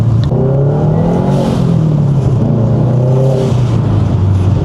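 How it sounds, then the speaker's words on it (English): A car engine with a new intake revs hard and loud nearby, its tone rising and falling through repeated pulls with a deep, throaty growl and no talking. "I'm gonna give you guys some inside driving sound clips as well as some outside."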